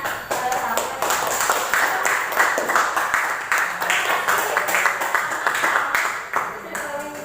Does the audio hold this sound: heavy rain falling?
no